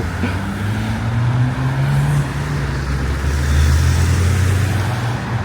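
Cars and buses rumble past on Hagley Road in Birmingham, a steady, loud stream of traffic with engines droning and swelling as vehicles pass nearby.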